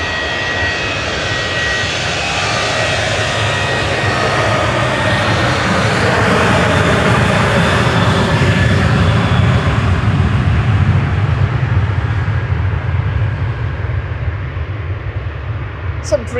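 KLM Boeing 737-800 departing Manchester Airport for Amsterdam, a loud jet roar that builds and sweeps past, then fades away toward the end.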